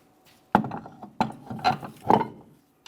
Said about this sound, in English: We're going to start on all 5 of our 21mm lug nuts, then we'll bottom them out.